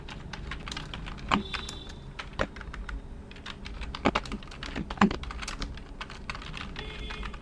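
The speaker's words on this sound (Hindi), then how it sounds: "और जो भी एड्रेस हो वो एड्रेस यहाँ पे हम टाइप कर देंगे" Quick, uneven bursts of typing on a computer keyboard during data entry into a spreadsheet, key clicks close and crisp, with a few louder strikes scattered through.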